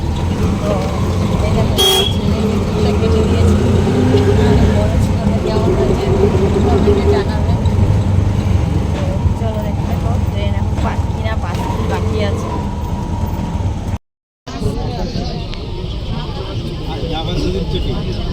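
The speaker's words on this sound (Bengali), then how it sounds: "আমরা বাড়ি থেকে বেরিয়ে অটোতে উঠে পড়েছি" Auto-rickshaw ride on a busy road: a loud steady engine rumble with traffic noise around it, several sharp horn toots, and a brief dropout toward the end before the drone resumes.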